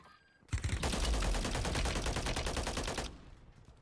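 Rapid automatic gunfire in Call of Duty on Rebirth Island, a dense burst of about two and a half seconds of fast repeated shots, moderately loud and without speech over it.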